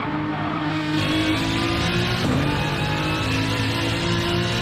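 A GT3 Cup race car engine in a racing video game howls steadily at high revs on a flat-out straight, with a continuous loud drone and a brief shift in pitch midway, no talk.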